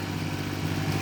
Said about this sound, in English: on the tractor mowing